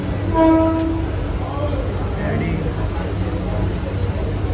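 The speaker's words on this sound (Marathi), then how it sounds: "आता ट्रेन आली आहे कल्याण फास्ट पकडायचं आता" A train rumbles steadily nearby as it arrives at a station in Kalyan, with a short horn blast near the start and busy station noise around it.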